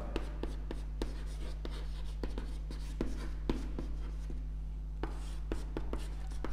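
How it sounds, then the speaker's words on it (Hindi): A marker or chalk writes a name on a classroom board during a history lecture, a steady series of short close taps and scratchy strokes over a constant low electrical hum. "तो यहाँ पे मैं नाम लिख देता"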